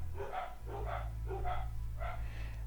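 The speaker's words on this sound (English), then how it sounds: "the dogs are barking" Dogs barking indoors at a household, four short bursts of barks spaced across the moment, fairly faint over a low steady hum.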